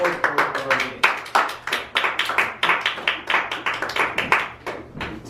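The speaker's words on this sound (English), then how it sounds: "Let's please give him a round of applause." A small audience at a Toastmasters club meeting claps briskly, a dense run of individual hand claps filling the room for several seconds, near and fairly loud.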